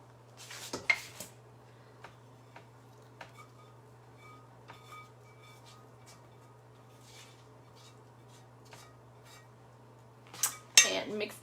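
Bacon and melted butter being folded into cornbread batter, faint spoon clinks and scrapes against a bowl over a steady low hum, with a louder clatter of utensils at the start and end.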